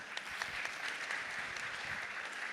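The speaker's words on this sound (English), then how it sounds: "Please give him a round of applause." A conference audience applauds a speaker's acknowledgment at a vocational training event, steady dense clapping filling the room at moderate level throughout, with no voices over it.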